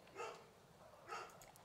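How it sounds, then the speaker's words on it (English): A dog barks outdoors at a distance, two faint muffled bursts roughly a second apart, heard during a gaming session with no talk over them. "My dog's barking at some shit out there."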